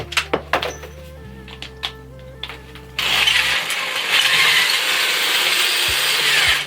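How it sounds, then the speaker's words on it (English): A few short clicks and knocks, then a loud, steady impact driver whir with a harsh rattling edge that runs for several seconds up close. "This is where an impact driver comes in handy instead of just a drill."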